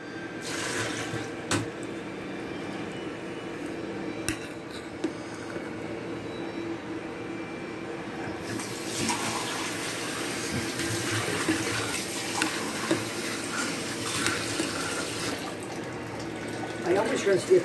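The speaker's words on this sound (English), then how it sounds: "I always rinse the utensils off with hot water" Hot tap water runs into a kitchen sink while utensils are rinsed in an apartment, a continuous splashing stream that grows louder and broader partway through, with faint clinks and background noise.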